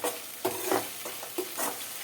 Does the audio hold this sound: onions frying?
yes